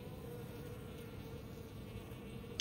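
A steady, close buzz of a few remaining honeybees at an abandoned hive hums continuously, with a brief sharp click near the end.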